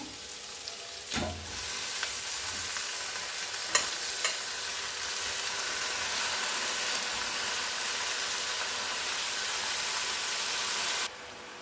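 Spinach tossed into a pan of frying potato curry, with a steady loud sizzle and hiss, a few faint clinks and stirs near the start, and a sudden drop in sound near the end.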